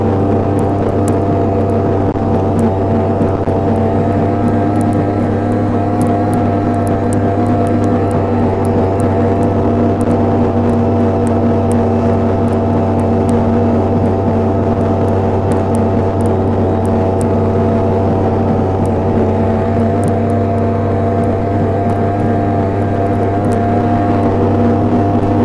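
Arctic Cat Blast snowmobile engine drones loudly and steadily during a test ride, a constant close motor hum with no break in pitch.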